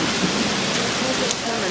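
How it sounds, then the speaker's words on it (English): Heavy rain pours steadily during a New Mexico storm, a dense, loud, even hiss of drops with no letup across the short stretch. "you can see the rain a little bit"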